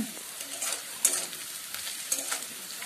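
Carrots frying in melted ghee in a pan for veg fried rice, a steady close sizzle with the scrape and clatter of stirring, several sharper knocks against the pan, no talking.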